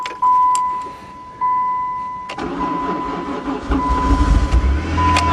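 An old Dodge car engine is cranked after sitting a long time and catches, its starter whir giving way to a rough, steady mid-pitched idle that builds up close by, with no one talking.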